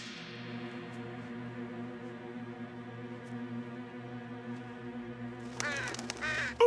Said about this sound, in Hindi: अच्छा, एक कौवा था।